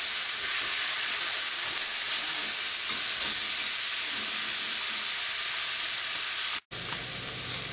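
Onions for a chuck steak gravy cook in a pan with a strong, steady sizzling hiss that runs without a break until it drops out abruptly for a moment near the end.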